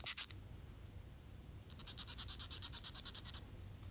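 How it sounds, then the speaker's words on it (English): Chalk scraping over coat fabric while marking buttonhole facings during sewing: a brief scratch, a pause, then a quick rhythmic series of about a dozen short, close strokes. "use a little chalk to mark where to put the buttonhole facings"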